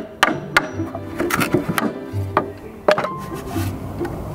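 A hammer knocks out the waste wood of a half lap joint after saw cuts: several sharp, close wooden thwacks at uneven intervals, with splitting and rubbing wood noises and low knocks between the blows.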